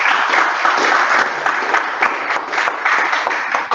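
At a Toastmasters club meeting, members give a hearty round of applause after a speech, a full, even burst of many hands clapping close and loud that holds for the whole stretch without talk.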